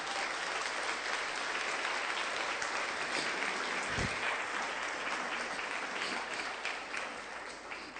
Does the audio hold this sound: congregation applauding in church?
yes